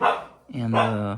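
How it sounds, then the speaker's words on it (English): Dogs bark indoors while a car part is being fitted, a sharp bark and then a longer yelping bark up close, heard over a man's speech. "Excuse my dogs, guys."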